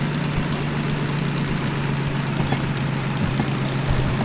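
An old DM3 diesel locomotive in the Derail Valley train simulator pushes a steam engine, its engine chugging at a steady idle-like crawl with a constant low drone and faint knocking, loud and continuous with no talk.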